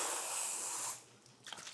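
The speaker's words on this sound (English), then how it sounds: "You get the Pantenol spray and spray it over the recipient area only where the hair was transplanted." A panthenol spray is misted onto a freshly transplanted scalp in one steady, close hiss lasting about a second, then it stops and leaves quiet with faint handling noise.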